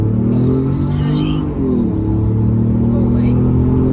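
A Ford F-150 EcoBoost pickup truck accelerating hard from a brake-boosted launch, its engine roaring loud and steady with a brief dip as it shifts gears, heard from inside the cab.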